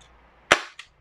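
A Kjworks MK1 airsoft gun powered by green gas fires one 0.20 g BB, giving a single sharp, close crack with a short gassy tail, then a smaller click after it.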